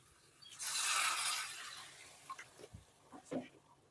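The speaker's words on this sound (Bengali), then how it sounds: "আমি এখানে এক কাপ পরিমাণ জল দিয়ে দেব" A cup of water splashes into a simmering potato chili curry in a pan, a brief hissing gush followed by a few soft bubbling plops.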